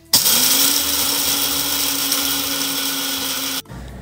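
An electric coffee grinder grinding coffee beans finely whirs loudly and steadily up close for a few seconds, then switches off abruptly.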